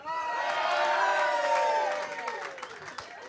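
A pub crowd at the Mount Erica Hotel cheers, whoops and applauds at the opening of a live footy comedy show, a dense burst of voices and clapping that fades after about two seconds.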